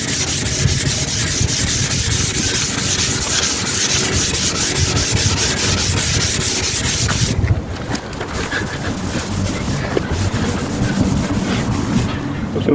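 Wet-and-dry sandpaper rubbing steadily over a car headlight lens during restoration, a continuous close, loud scratchy sanding texture that eases slightly partway through before resuming.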